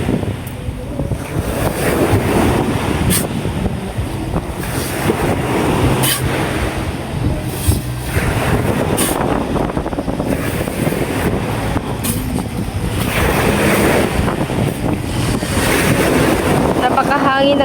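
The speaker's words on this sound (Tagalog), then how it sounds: "Napakahangin ng dagat mga kabansyo." Strong wind sweeps across the sea beside a coastal fishpond, a loud, continuous roar of gusts and crashing surf that never lets up.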